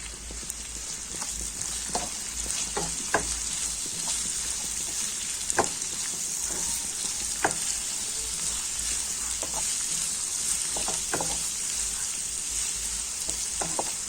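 Chopped onion and green chilli fry in a pan for a chicken curry, with a steady close sizzle and occasional soft stirring clicks, no voices.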